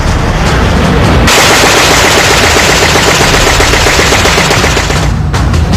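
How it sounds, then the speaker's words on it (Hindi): Loud, continuous rapid-fire cannon fire from an airborne F-35 fighter jet, a dense roaring burst of gunshots that barely lets up from start to finish. "आसमान में उड़ते हुए F-35 दनादन गोलियां दागता है।"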